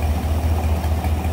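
A 1955 Ford Thunderbird convertible V8 with a four-barrel Edelbrock carburetor and aluminum radiator idles smoothly, a loud, steady low rumble close by with no talk.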